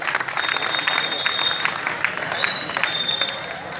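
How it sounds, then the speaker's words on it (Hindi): Crowd applause at a Republic Day celebration in India, a steady wash of many hands clapping fairly loudly for the whole stretch, with faint voices mixed in. "बहुत बहुत धन्यवाद, एक बार जोरदार ताली।"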